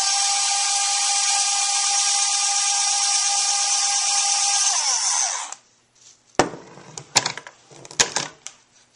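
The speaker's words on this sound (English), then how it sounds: "And now I'll just try to put that screw in there." Power screwdriver whirring steadily as it drives a screw into a plastic part of a RepRapPro Huxley 3D printer, winding down after about five seconds, followed by a few sharp clicks and handling knocks.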